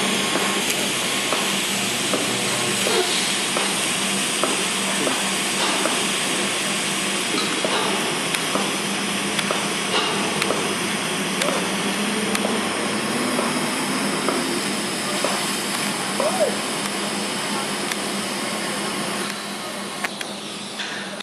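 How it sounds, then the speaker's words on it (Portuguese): A TIG root pass being welded on ASTM 335 P11 steel pipe gives a steady, continuous hiss and crackle of the arc that runs unbroken, close and fairly loud, with no talking. "será iniciado mais uma emenda do cordão de solda da raiz"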